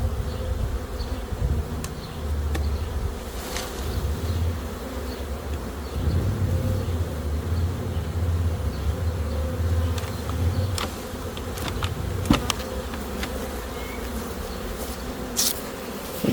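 A big, crowded colony of honeybees swarms chaotically around a packed hive on a hot day, a dense, steady buzzing drone with occasional louder passes of individual bees near the listener.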